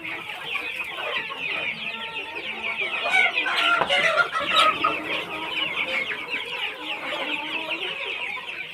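Desi chickens on a farm cluck and chatter continuously, several birds close by in a busy overlapping flock, with a few sharper calls rising midway.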